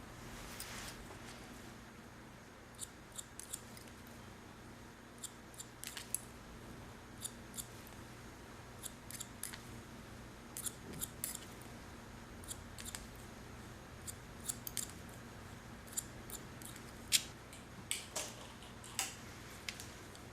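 Scissors snipping hair during a short feminine haircut, with sharp, irregular clicks repeating throughout over a quiet room hum, moderately close.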